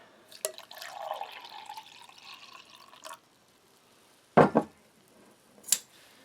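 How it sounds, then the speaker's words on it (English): Water tipped into a cooking pan while making curry chicken fried rice, with a short pouring splash followed by a pause, then a few sharp clinks and drips close by, all fairly quiet and without speech. "Throw some water in there."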